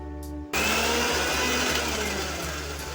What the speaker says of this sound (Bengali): প্রথমে জিরে, লঙ্কা, পেঁয়াজ, রসুন, আদাটি পেস্ট বানিয়ে নেব।